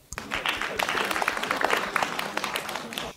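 An audience at the final of a hosting competition applauds as the tenth contestant is called to the stage, a dense, steady wash of clapping lasting a few seconds.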